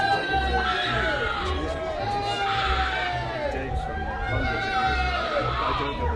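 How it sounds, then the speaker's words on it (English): Large outdoor crowd during a public appearance by Charles and Camilla, a continuous murmur of chatter with scattered shouts and raised voices rising and falling, dense and fairly distant. "Listen to this crowd."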